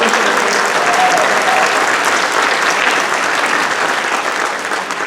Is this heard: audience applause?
yes